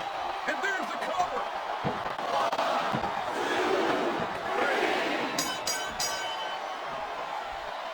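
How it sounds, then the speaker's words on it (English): A capacity arena crowd in the WWE SmackDown vs. Raw 2007 wrestling game roars and cheers through a Triple H versus Batista match, swelling mid-way with sharp slams near the end, while a commentator speaks over it. "This capacity crowd is making their opinions known tonight."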